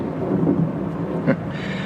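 Heavy rain and rolling thunder from an audio drama, a dense constant wash with a low rumble and one brief sharper crack just past the first second, with no speech.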